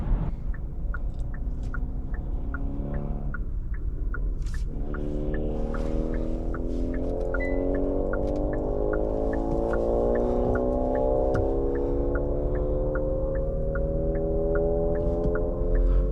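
A 2024 Hyundai Elantra SEL engine revs up steadily through the gears during an acceleration test under the steady hum of the cabin, pitch climbing, dropping at a shift, then rising again.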